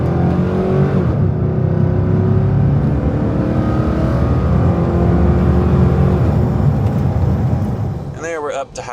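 A Hummer H2 with a 6.2-litre V8 accelerates up to highway speed, its engine drone steady and close inside the cabin, with speech-like tonal bands over it and a short whine near the end.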